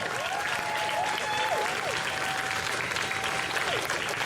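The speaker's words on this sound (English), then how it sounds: "a big round of applause to our trans elders" A crowd at the Melbourne / Narrm trans pride march applauds its trans elders, steady dense clapping held at an even level throughout, with whistles and cheers rising over it.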